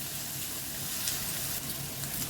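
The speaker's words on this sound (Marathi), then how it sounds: "इथे छान आपल्याला कांदा आता लाल करून घ्यायचा आहे." Finely chopped onion fries in a pan, giving a steady, even sizzle with soft crackling throughout, fairly close and moderately loud, with no voices.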